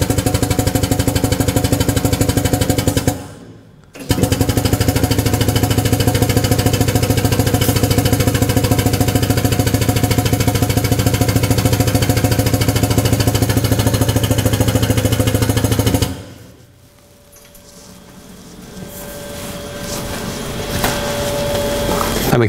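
An ATEX-rated power clamp drum tipper runs with a loud, steady mechanical hum and rattle while lowering and clamping a drum, broken by a brief pause early on, then stopping near the end and leaving quieter machine noise.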